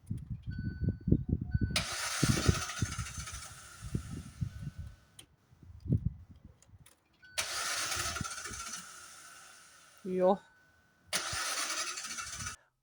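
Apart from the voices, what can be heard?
Hyundai i20 car engine cranking but failing to start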